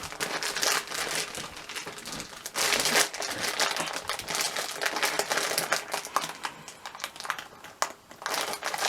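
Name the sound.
plastic mozzarella bag being torn open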